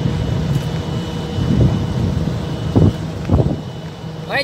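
Trucks arrive at an outdoor site with a steady engine rumble, repeated reversing beeps and a few louder knocks and clatters along the way.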